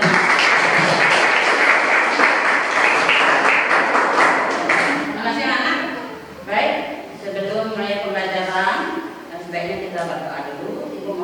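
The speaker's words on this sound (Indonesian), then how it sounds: "Aplaus dulu dong kalian." Students in a classroom break into loud, dense applause of many hands clapping together, which fades after a few seconds into cheerful voices and chatter.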